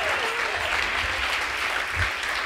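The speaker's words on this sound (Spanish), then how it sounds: "Si le va a dar el aplauso a tu padre." A church congregation applauds during a sermon, a continuous, even roar of many hands clapping together, sustained and loud with a faint low rumble underneath.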